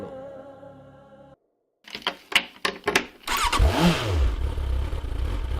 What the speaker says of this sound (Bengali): আজকে উড়াধুরা বাইক চালাবো।